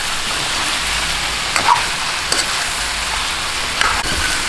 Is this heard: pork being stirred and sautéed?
yes